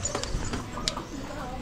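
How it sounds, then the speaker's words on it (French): Horse-drawn carriage on Gili Trawangan, Indonesia, its hooves clip-clopping in an irregular patter on the island road while people talk nearby. "Voilà les tuk-tuk de cette île. C'est des tuk-tuk cheval."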